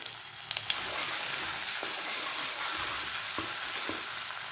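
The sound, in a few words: ginger garlic paste frying in oil in a pan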